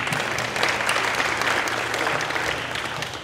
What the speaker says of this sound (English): I assume we're clapping for them